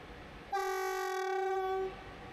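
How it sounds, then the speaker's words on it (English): A passenger train horn sounds one steady, loud, harmonic blast lasting over a second over low rumbling background noise, in Morocco. "My trip ends here, but the train continues to Fez."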